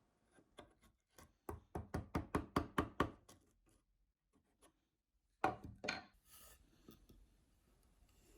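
A chisel clears out a wooden mortise with a fast run of sharp knocks. Short scraping and paring strokes follow after a pause. The taps are close and distinct and no one speaks.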